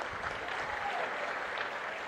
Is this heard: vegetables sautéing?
no